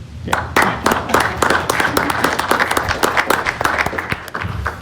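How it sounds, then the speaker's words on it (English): A commission meeting audience claps steadily for several seconds, a moderately close patter of many hands with no voices over it. "we clap."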